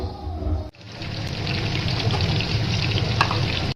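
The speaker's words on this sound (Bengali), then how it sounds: "এই আলুটাকে আমরা এখন ভেজে নেব" Pre-cut potatoes frying in a pan, a loud steady sizzle that starts abruptly and holds evenly for several seconds before cutting off.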